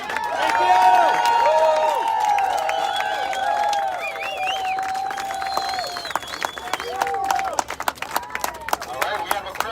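A crowd at a Chicago Memorial Day rally applauds and cheers, with clapping and voices swelling loudly at first and then thinning into scattered claps and calls.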